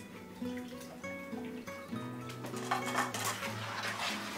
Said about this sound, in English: Give that all a good stir. Get everything nice and mixed up.